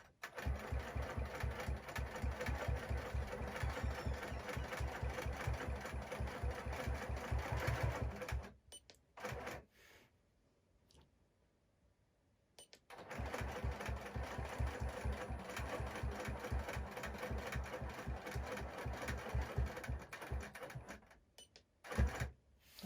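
A sewing machine quilting a big quilt in a small space, running in a fast steady mechanical stitching rhythm, stopping briefly for a few seconds of near silence, then resuming and ending with a couple of clicks.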